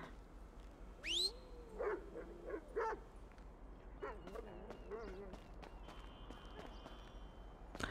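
Chop, a dog in Grand Theft Auto V, gives a rising whimper followed by a few short barks and yips, with someone speaking nearby in between.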